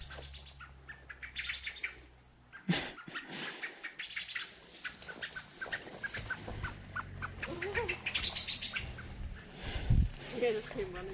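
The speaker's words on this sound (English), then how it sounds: "I think the common blackbirds, they attack her to protect their nest" Common blackbirds giving repeated sharp alarm chirps and calls while mobbing a cat near their nest outdoors, with some wing flutter and people talking.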